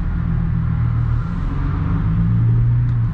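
Ford Mustang 4.0 launching in first gear, a loud continuous engine drone heard from inside the car, holding steady and rising in pitch toward the end.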